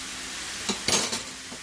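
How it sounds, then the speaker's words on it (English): Food being stirred in a pan over steady sizzling, with a few quick scraping and clinking strokes of a utensil, close and alone without talk. "Stirring it up."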